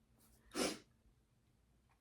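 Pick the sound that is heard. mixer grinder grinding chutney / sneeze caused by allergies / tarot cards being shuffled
sneeze caused by allergies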